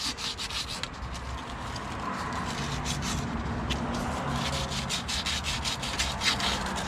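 Sandpaper rubbed briskly over surface rust on a 2001-05 Honda Civic rear wheel bearing hub, making a steady, close, continuous rasping with quick back-and-forth strokes.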